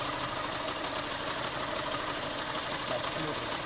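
A VAZ 2108-099 engine idles during an ignition timing check. It gives a steady, even running drone that stays close and constant with no breaks.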